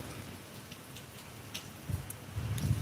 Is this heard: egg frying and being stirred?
no